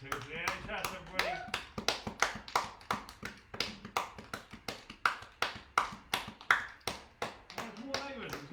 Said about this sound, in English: You can just about hear people clapping in the streets